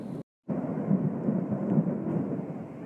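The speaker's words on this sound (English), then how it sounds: "That was lightning." Thunder after a lightning strike in Florida, a sustained low rolling rumble that sets in after a brief silent gap and continues steadily, fairly loud and without speech.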